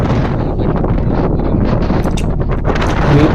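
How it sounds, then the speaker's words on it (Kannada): Strong wind roars at a hilltop viewpoint, loud and continuous, buffeting the microphone with rumbling gusts and rustling throughout. "ಇವಾಗ ಗಾಳಿ ಕೇಳಿಸ್ತಾ ಇದೆ, ಎಷ್ಟು ಸೌಂಡ್ ಬರ್ತಾ ಇದೆ ಗಾಳಿ ನೋಡಿ"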